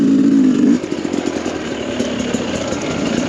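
A dirt bike engine fitted with a Smartcarb carburetor revs loudly, then dips and stumbles as the throttle comes off and back on, settling into a rough, uneven running drone.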